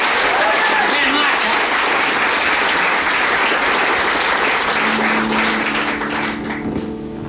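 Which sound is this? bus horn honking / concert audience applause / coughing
concert audience applause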